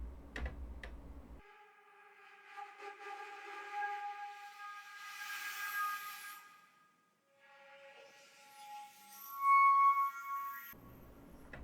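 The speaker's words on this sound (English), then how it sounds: "Let's try the whistle." A whistle effect from the Cinema Flutes sample library plays breathy, sustained tones with bright overtones that swell, fade and briefly break off before returning, fairly quiet and heard alone.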